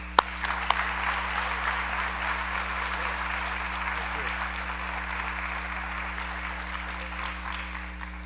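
An audience at a symposium applauds to welcome two speakers, a steady wash of clapping from many hands, fairly close and even in loudness, lasting several seconds without a break.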